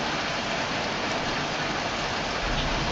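Steady rain in the video game Heavy Rain, a dense, even hiss of falling water that stays constant throughout with no other clear sounds above it.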